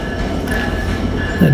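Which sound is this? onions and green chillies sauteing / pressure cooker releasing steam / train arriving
train arriving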